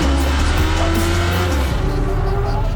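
A Formula Drift Corvette drift car roars at high revs while its tires squeal continuously through a slide, loud and close, with no voices.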